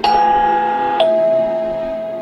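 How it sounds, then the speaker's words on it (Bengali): A doorbell rings twice in a Bengali suspense audio drama, two bright chime tones about a second apart, each note ringing on and slowly fading, close and alone with no talk. "কলিং বেলটা চেপে দিলেন"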